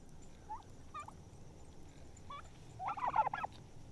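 Bronze-breasted turkeys on a farm give several short gobbles and chirps, faint and spaced out, then a louder burst of gobbling near the end over steady background noise.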